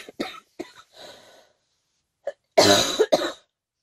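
A woman has a coughing fit indoors: a few short coughs and a breathy rasp, then a pause, then a loud burst of harsh, close coughs near the end, with no speech.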